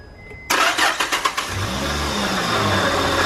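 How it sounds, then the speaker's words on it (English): A car engine cranks with a quick series of rhythmic starter pulses, catches and settles into a steady idle, close and fairly loud. "now we're going to crank the engine"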